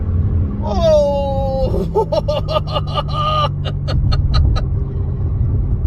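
A 2022 BMW M3 Competition M xDrive accelerates hard from a launch-control start, its loud, close engine note climbing and dropping through quick automatic gear shifts. Someone gives a short exclamation partway through.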